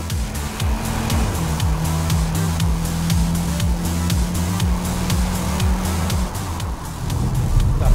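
Cupra Ateca 300 hp all-wheel-drive sport SUV on fast laps, engine loud and close as it revs up through the gears with repeated rising pulls and quick shifts, with wind and road noise rushing underneath.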